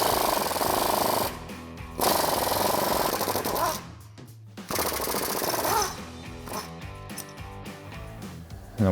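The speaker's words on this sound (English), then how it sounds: "grab yourself a 10mm socket and remove these two bolts holding the sway bar." An impact tool turns a 10mm socket to remove the sway bar bolts on a 2007-2016 Chevrolet Silverado 1500. The loud, rapid hammering comes in several bursts with short pauses between them.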